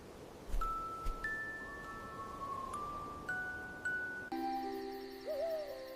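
Soft owl hoots sound over a quiet background, several single tones one after another, with faint chimes layered in toward the end.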